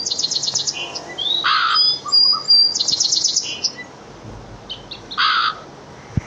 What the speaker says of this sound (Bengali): ও ভাই কাকটা তো আমার ঠোকর দিতে আসে।